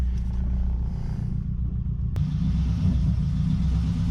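A rallycross car's engine idles steadily and close by, with a low, rough, uneven rumble and one sharp click partway through.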